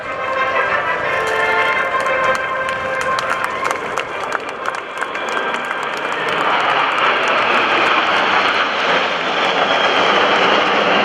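Naval jets from NAS Oceana fly past at an airshow, their engines a loud, continuous roar that builds and swells over the crowd, with faint crowd noise underneath.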